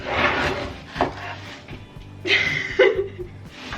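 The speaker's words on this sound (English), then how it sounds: "I'll cut the leek, you can cut the potato" A knife chopping leek and potato on a board in a home kitchen, a few close, uneven cuts and knocks mixed with light handling noise.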